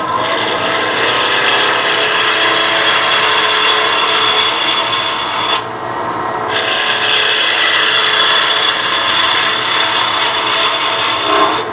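A wood lathe roughs out a conical Christmas ornament blank, the turning tool cutting in a steady, loud broadband scrape with one brief pause partway through; no talking.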